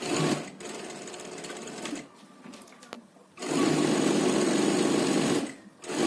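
A sewing machine runs in fast, close bursts while double-stitching a fitted churidar, stopping briefly twice before resuming its steady whirring clatter.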